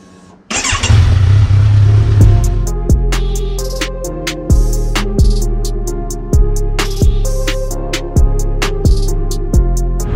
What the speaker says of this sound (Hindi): सो एनीवे बाइक को करते हैं गर्म